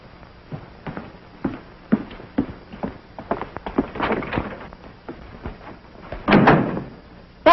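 Footsteps and knocking-like thumps building up, ending with a louder swell and a sharp bang as a door opens in an old 1951 film scene; no speech.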